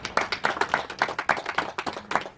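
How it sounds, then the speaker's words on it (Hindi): A church congregation claps along in a quick, steady rhythm, with about a dozen sharp, fairly close bursts of hands over a couple of seconds and no voices on top. "ताली लाएं यीशु मसीह के नाम से"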